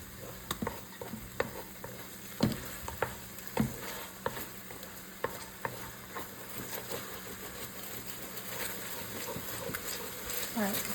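Sofrito frying in a pan, with a steady low sizzle that runs throughout. Sharp clicks and taps of stirring come in an irregular rhythm over it, loud and close.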